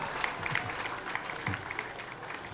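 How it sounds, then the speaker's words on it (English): An audience claps for a university choir after its song at an Accra Technical University congregation ceremony, a steady, dense patter of many hands that holds evenly for a few seconds. "Shall we clap for the university choir for the melodious song?"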